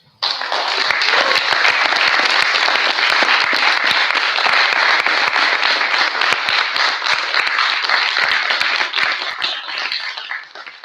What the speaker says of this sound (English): So great applause for you.